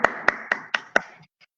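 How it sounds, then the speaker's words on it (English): Five quick, evenly spaced claps in an online class for young children, close and crisp, followed by a couple of fainter trailing taps. "Please clap for Nafi"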